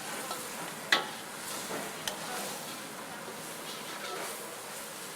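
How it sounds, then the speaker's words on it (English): Chilies and shrimp paste frying in a pan for red curry duck, giving a steady, soft sizzle throughout with a couple of brief sharp pops or utensil taps. "you can smell that the chilies and the shrimp paste are starting to cook a little bit"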